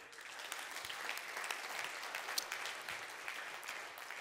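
Steady applause from an audience for Pascal Attenberg at a civic gathering, a dense continuous patter of many hands clapping throughout, fairly distant and even, with no voices over it.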